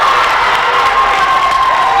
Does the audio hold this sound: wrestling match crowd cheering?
yes